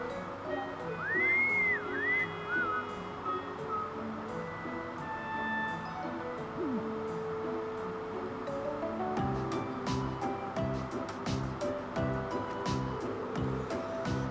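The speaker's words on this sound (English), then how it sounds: "That instant whistling isn't fooling anyone." A character whistles in the video game Trails of Cold Steel: a short run of bright, rising and falling whistled notes over steady background game music.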